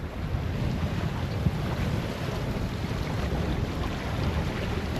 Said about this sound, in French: on a toutes les voiles dehors, ça avance bien